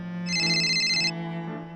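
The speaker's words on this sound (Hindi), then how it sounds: "ये किसका फोन आ रहा है?" A phone ringtone plays a bright, steady electronic melody for about a second over a low background tone, then cuts off, with no talking.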